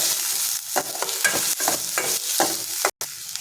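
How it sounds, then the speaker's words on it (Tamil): Tomato sizzles in a hot pan while a utensil scrapes and stirs in repeated strokes, close and fairly loud, no talking, while making egg gravy. "ஒரு தக்காளி நறுக்கி வச்சுருக்கேன் அதை சேர்த்துக்கிறேன் அதுவும் நல்லா வதங்கட்டும்"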